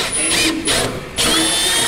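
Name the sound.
power drill drilling a hole in a truck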